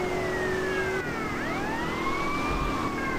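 A police car siren wails in GTA Vice City, its pitch sweeping up and down over steady traffic noise, loud and continuous throughout.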